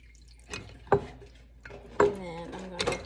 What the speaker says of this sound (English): you want to just drain all of that buttermilk off your butter